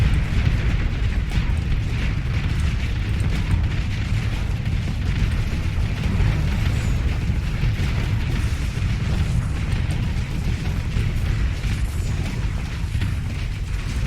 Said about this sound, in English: Missiles away? Good.